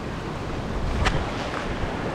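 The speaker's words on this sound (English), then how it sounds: "This waterfall is massive." Massive mountain waterfall roaring as a broad, steady rush of water with wind buffeting the microphone, constant and fairly loud throughout.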